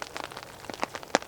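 Rain patters on a tarp in wet winter woods, scattered faint drops tapping irregularly, a few sharper hits standing out near the end, no voices.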